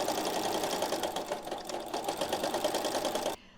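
A sewing machine runs steadily while stitching a pillowcase seam, a continuous close whirring hum with a fast rhythmic needle chatter that cuts off abruptly near the end.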